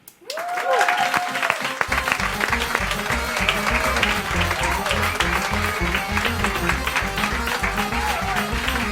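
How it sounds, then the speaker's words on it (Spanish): Sustained applause from a large audience, dense clapping that starts abruptly and continues steadily throughout, with a brief tonal sweep at the start. "Un aplauso para Quique Pérez"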